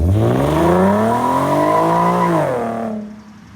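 Infiniti Q50 with an aftermarket performance exhaust revs up hard and holds a loud, rising engine note for a couple of seconds before dropping off sharply, close and clear with no talking.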